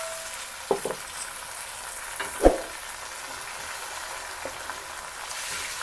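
Ground tomatoes hit hot garlic-ginger paste in a pot for daal, giving a soft continuous frying crackle with a few louder spoon knocks and splatters rising over it.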